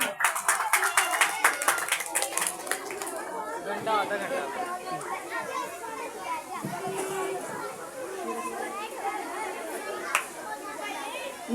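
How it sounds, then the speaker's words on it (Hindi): Children clap briefly in a sharp burst at a 14 August school program, then the hands fade into lively chatter and kids' voices filling the room. "उसके लिए जोरदार तालियां।"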